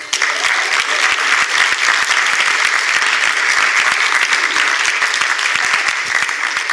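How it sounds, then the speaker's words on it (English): Loud, dense applause from a large conference crowd, steady and sustained from start to finish with no talking over it. "big cheer and round of applause for everyone at Sea Change"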